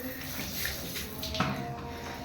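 Steady running water splashing close by while bathing a cat, like a tap filling a tub, with faint voices murmuring underneath.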